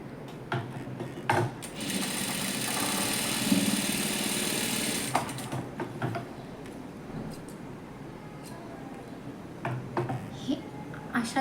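A sewing machine double-stitches the shoulder seam of a lined blouse in one sustained run of a few seconds, followed by scattered clicks and handling noises; a voice speaks in the background.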